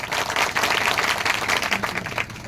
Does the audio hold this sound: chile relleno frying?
no